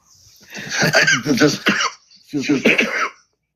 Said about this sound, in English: Excuse me for the coughing here.